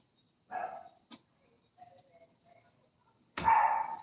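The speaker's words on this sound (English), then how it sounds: "The dog is barking at somebody walking by." A dog named Zoe barks at someone walking past outdoors: one sharp bark, a short quiet stretch with faint small noises, then a second louder bark close by.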